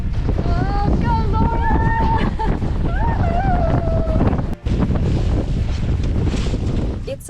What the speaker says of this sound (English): the winds are going crazy at this point